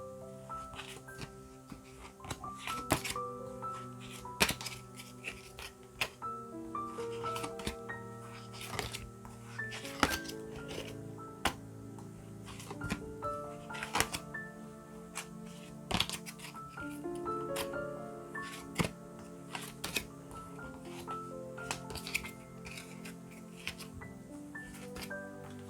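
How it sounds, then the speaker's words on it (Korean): Tarot cards are shuffled and drawn in three-card spreads, giving crisp snaps and light flicks scattered through the clip over steady background music. "세 장씩 뽑겠습니다."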